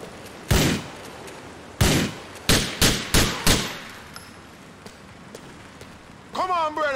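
Gunfire in Grand Theft Auto IV, in a snowy Christmas setting, comes as about six loud, sharp shots in quick irregular succession, followed by a short stretch of quieter background and then a voice.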